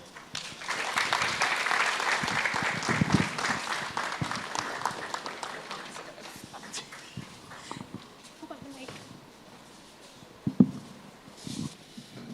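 An audience at a World Mental Health Day event applauds after a skit, the clapping loud at first and then fading into scattered claps, footsteps and people talking.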